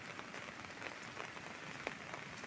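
Heavy monsoon rain in rural Odisha during a flood, a steady hiss of falling water with scattered drop patters, fairly faint and without talk.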